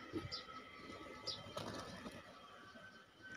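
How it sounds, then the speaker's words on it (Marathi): Soft pigeon coos and faint rustling as pigeons eat scattered rice over a quiet outdoor village background, with brief flutters of movement nearby. "इकडं कबूतर छान येऊन तांदूळ खात आहेत"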